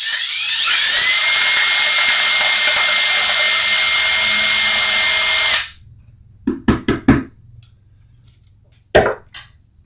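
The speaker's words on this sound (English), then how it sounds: "Sometimes you got to play around with a little bit and get just where you can get your drill in there." A power drill bores a hole for a guitar strap button, a loud steady high whine for about five seconds that stops abruptly, followed by a few sharp knocks and taps.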